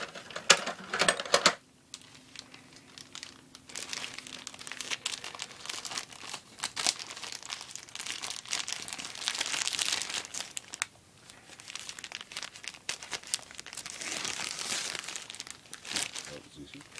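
Plastic bags crinkling and rustling as a package of Arktis boonie hats is cut open with scissors, sustained close handling noise with brief snips, a short quieter pause near the start and light speech at moments.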